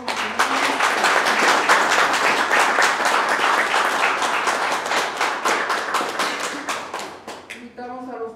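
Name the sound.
wedding guests applauding the newlyweds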